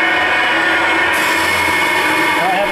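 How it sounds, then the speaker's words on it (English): A Scotchman CPO 315 HFA saw runs with its coolant pump on, a loud, dense, steady motor drone with a high whine that drops out partway through, and a voice speaks over it. "So turn saw motor on, coolant pump on, have your saw in the manual position"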